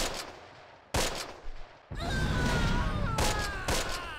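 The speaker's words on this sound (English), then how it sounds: "I've dropped some more mortar cover in this little section right here" Mortar bombardment and gunfire in the Close Combat video game, with repeated sharp blasts and a dense volley of loud shots that build into a sustained rumble of explosions.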